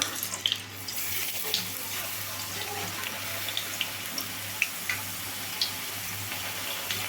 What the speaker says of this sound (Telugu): ఇప్పుడు పొటాటో చిప్స్ని అయితే వేసేసుకోవాలి